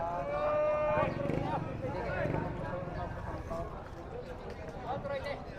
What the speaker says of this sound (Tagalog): Ito ang mga kalabaw, mga kabayan.